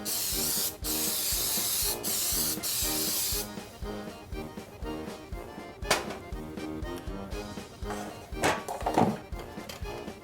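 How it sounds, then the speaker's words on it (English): Cooking oil spray hissing into cake pans in a home kitchen, a few loud continuous bursts over the first few seconds, followed by clattering of pans and someone talking. "be careful when you spray so you don't get it all over your cupboards"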